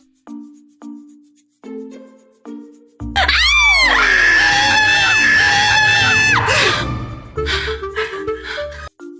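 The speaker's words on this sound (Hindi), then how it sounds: "क्यों चिल्ला रहे हो?" Several people scream loudly together in fright, a long piercing sustained shriek after earlier short spoken bursts, then quick excited exclamations follow close by.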